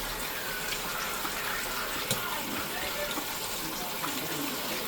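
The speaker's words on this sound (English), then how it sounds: "we're going to rinse the rice out" Running water pours steadily over a mix of brown and white sticky rice being rinsed, a soft continuous gushing with faint clinks, fairly quiet and even throughout.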